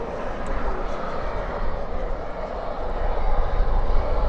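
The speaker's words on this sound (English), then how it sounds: "This is a Volaris. I'm assuming this is an" Volaris Airbus A321neo airliner at DFW airport at night, its steady jet engine roar filling the air continuously and building slightly louder toward the end.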